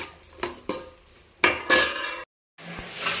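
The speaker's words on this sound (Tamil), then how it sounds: "பூண்டை போட்டு வெங்காயம் போட்டுக்கோங்க." Garlic and onion go into a hot pan for a sardine fish curry, with sharp clinks of a metal spoon against the pan, short bursts of sizzle, a brief abrupt silence, then frying again.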